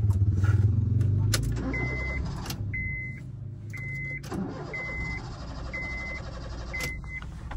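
A petrol car that was just refuelled cranks repeatedly and fails to start: after a loud engine rumble dies away, the starter whirs in short, evenly spaced bursts, close and fairly loud, with no voices.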